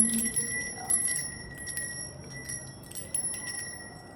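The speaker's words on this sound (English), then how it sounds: "I bought this. It's very cute. It's like a wind chime." A small, cute wind chime bought for 200 rupees rings with sustained high metallic tones, soft and close, with a few light brief strikes and no talking.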